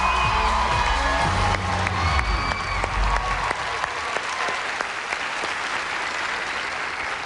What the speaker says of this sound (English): Give them a big final round of applause, everybody.